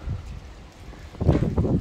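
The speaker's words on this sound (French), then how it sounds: "avec ce vent diabolique qui est en train de se mettre en place, la grosse tempête de sud" Strong southerly foehn storm wind buffets the microphone in short gusts, a quieter rumble at first, then a louder rushing blast near the end.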